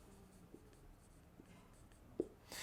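Faint pen or marker strokes scratching on paper or board as a chemistry redox reaction is written out, with soft intermittent taps and one sharper tick near the end in a quiet room.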